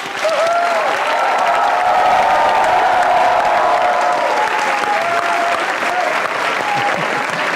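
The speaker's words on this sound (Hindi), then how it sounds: "आपकी भरपूर तालियों में मुनव्वर मकसूद" Studio audience on a talk show applauding a guest's entrance, loud sustained clapping with cheers and a few whoops rising through the middle and holding steady to the end.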